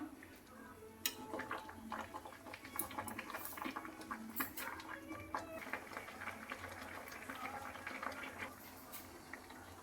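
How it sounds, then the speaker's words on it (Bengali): Cabbage leaves simmer in a pot of salted water, a steady bubbling and patter with small pops and clicks throughout, moderately close and fairly quiet, with no voices. "বাঁধাকপির পাতাগুলো পরিমাণ মতো জল আর কিছুটা লবণ দিয়ে সিদ্ধ করে নিচ্ছি।"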